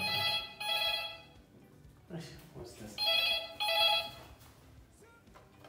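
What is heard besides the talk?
telephone ringing in a hotel bathroom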